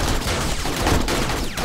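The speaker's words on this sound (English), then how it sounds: "my turrets are actually shooting at their heads" Base turrets firing in 7 Days to Die with the Darkness Falls mod, a loud, dense barrage of rapid overlapping shots with sharp cracks and a few brief gaps, no talk.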